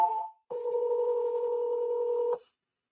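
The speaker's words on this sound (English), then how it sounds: "it's ringing her right now" An outgoing call placed through the Aircall dialer rings once with a short steady two-tone ring of about two seconds, clear and isolated, after a brief initial tone.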